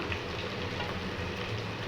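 Chili powder and onions fry and get stirred in oil in a pan while buffalo meat curry is prepared, giving a steady, close sizzle and crackle with soft scraping throughout and no talking.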